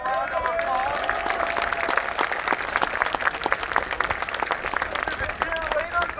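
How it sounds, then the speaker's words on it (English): A stadium crowd applauds the Marching Pride band at Campbell Stadium, steady dense clapping sustained throughout, with a few cheers and whoops rising above it. "Marching Pride, let's give them a round of applause."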